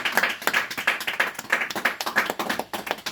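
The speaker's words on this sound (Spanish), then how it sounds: "Dale fuerte aplauso que es para Dios" A church congregation clapping in a quick, rhythmic unison beat, sharp close hand claps repeating steadily for a few seconds.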